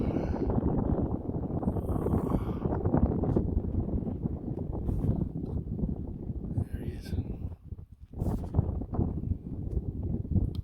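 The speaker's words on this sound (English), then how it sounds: "Got a bit of a stiff headwind." Stiff headwind buffeting a microphone in a small RV light plane on final approach, a loud rough low roar with gusty surges throughout.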